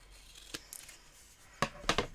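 Scissors snip paper for a candy cane pouch table favour: a lone snip early, then a quick cluster of two or three sharper cuts near the end, close and fairly quiet.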